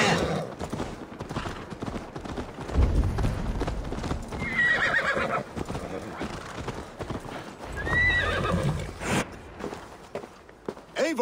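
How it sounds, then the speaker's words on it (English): Hooves clip-clop steadily from a horse in Assassin's Creed Valhalla, a brisk close rhythm with occasional neighs, heard under ongoing talk. "can you have the horse gallop a little faster?"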